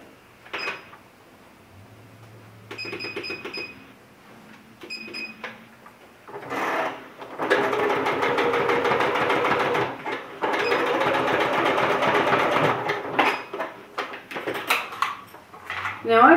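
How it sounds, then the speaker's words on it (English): A sewing machine runs a zigzag stitch across a cage crinoline, whirring in several bursts with pauses between, loud and close, with handling clatter in the gaps. "I'm just going to use a zigzag stitch, just to make sure it's nice and secure."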